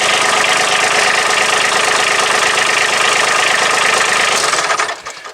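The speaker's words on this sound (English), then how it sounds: "We'll start the tractor up." A Kubota B2601 compact tractor's diesel engine runs at a steady, loud idle with a dense mechanical rumble, then cuts off abruptly near the end, with no talking.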